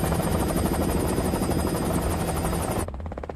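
A rescue helicopter arrives in the Korean zombie series All of Us Are Dead, its rotor chop loud and steady with a rapid rhythmic beat, then cutting abruptly to a quieter rumble near the end.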